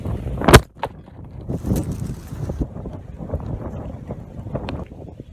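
Gusts of strong wind buffet the microphone outdoors in loud rumbling bursts, with a sharp thud early on as a camera is knocked over, and rustling underneath.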